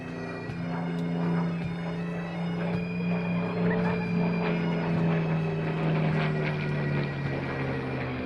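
A Spitfire Mark 9, delivered to the RAF in 1944, flies at the Daedalus D-Day 80 airshow; its steady piston-engine drone carries a harmonic whine that slowly sags in pitch as it passes, with no voices.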